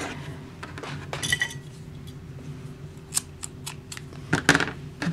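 Scissors snip through yarn while a new skein is joined for crochet, giving a few crisp metallic cuts and light clinks up close, with no talking.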